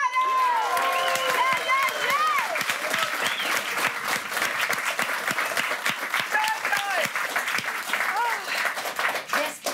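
A German late-night TV studio audience claps loudly and steadily for a band, dense sustained applause that fills the whole stretch, with a few voices and whoops mixed in.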